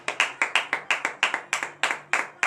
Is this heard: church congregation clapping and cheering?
yes